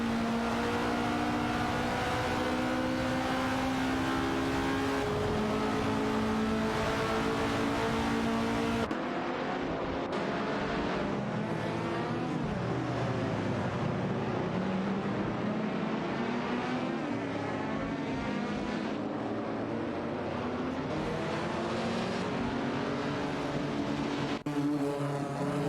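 Engines in a video game race whine and drone with shifting pitch, one car's tone climbing and falling as it shifts gears, a Porsche 904 among the field, continuous and fairly loud.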